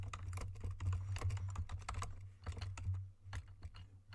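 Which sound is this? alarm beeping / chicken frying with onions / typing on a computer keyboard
typing on a computer keyboard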